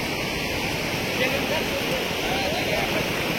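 A flooded river rushes steadily past in Solapur, a broad, continuous roar of flowing water, close and loud, with no voices clearly over it.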